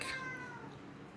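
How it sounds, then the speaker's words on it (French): A single faint cat meow, short and falling in pitch, with a quiet background. "Celui que tu entends, c'est mon chat Rocky."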